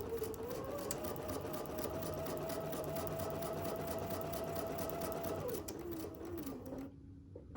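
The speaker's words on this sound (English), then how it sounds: "And a couple stitches back and sew down the line." A sewing machine stitches a mini quilt with a steady, fast mechanical whir and a faint high hum, running continuously before slowing and stopping near the end.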